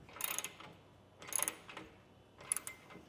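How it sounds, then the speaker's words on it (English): A 1/2-inch socket ratchet tightens down a truck bed rack, three short bursts of metallic clicking spaced about a second apart, close and fairly quiet. "I can start tightening it down with my 1/2-inch socket"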